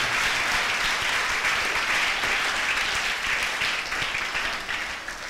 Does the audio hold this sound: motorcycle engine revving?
no